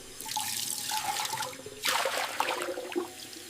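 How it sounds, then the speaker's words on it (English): A tea cup rinsed under a running kitchen tap, steady close splashing water that swells louder partway through as the cup is moved under the stream, with no talking. "I rinse the cup well."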